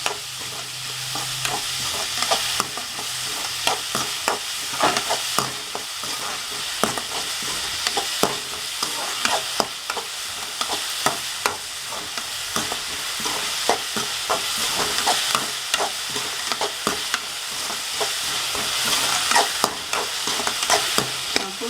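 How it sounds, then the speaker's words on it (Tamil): Onions stirred and sautéing in a hot pan for Tamil-style fish puttu, a steady close sizzle broken by frequent scraping stir strokes throughout, with no talking. "வெங்காயம் நல்லா வதங்கணும்"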